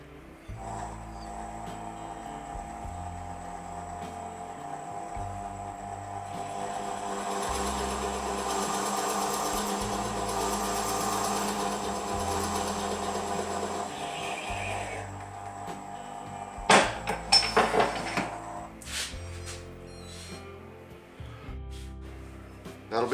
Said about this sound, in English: When I drill, I always like to turn the speed down to about 250.